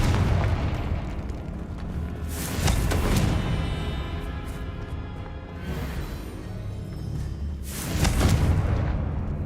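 Fiery spell blasts from the Confringo curse in the game Hogwarts Legacy, a few loud, heavy booms with crackling bursts that swell and then fade, set against a rumbling background.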